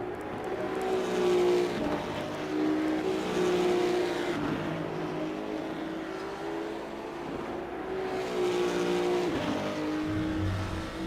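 A Porsche 991 GT2 race car in Assetto Corsa Competizione at Laguna Seca drones steadily near the listener, its engine pitch rising and falling through gear changes with brief dips where it shifts, and no talk over it.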